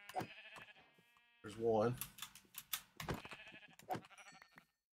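A sheep bleats in the game Firecraft, short and clear, with several more bleats spread between a player talking and a few keyboard clicks.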